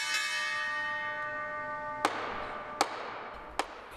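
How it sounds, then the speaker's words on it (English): A stock exchange closing bell rings with a sustained tone that fades out, followed by three sharp, evenly spaced knocks like a gavel striking, heard fairly faint with no talking. "That was the sound of the closing bell."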